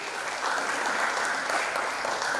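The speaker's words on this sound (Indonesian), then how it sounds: "Tepuk tangan untuk Bali" An audience at a cultural tourism talk claps for Bali, a brief, steady burst of many hands clapping together, moderately loud with no talking over it.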